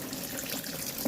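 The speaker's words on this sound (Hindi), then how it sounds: "और इधर देख लीजिए बिल्कुल पानी टब में भर रहा है।" Tap water pours steadily into a washing machine tub with a drainage problem, a continuous close, moderately quiet rushing stream with no talk over it.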